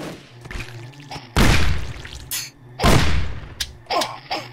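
Mechanical clacks and heavy booms from a shotgun being handled and fired in the video game Shambles, a few loud thumps separated by metallic reload clicks.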